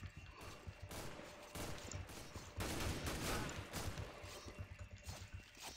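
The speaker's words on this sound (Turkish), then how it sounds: "Oğlum oradaki adamı niye vurdun sen?" Dense bursts of gunfire in the CS:GO JailBreak game mode, loud and nearly continuous over about six seconds, with sharp cracks layered over rumbling impacts.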